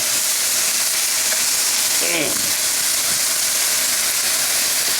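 Garlic cloves frying in olive oil sizzle with a steady, loud hiss close to the pan, with faint clinks of a utensil partway through and a brief voice in the background.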